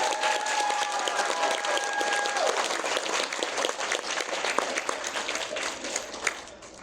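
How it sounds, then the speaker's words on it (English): Applause rises from a crowd at an anime convention's closing ceremony, a sustained wash of clapping that is fairly distant and thins a little toward the end, with a faint tone briefly sounding beneath it at the start. "So if we can get a round of applause for him, even though he's not here."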